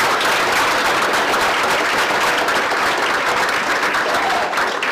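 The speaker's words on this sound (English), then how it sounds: "really give a round of applause for all the housing families and the people who chip in with that" Steady, dense applause from an audience for housing families and helpers, loud and continuous throughout without pause.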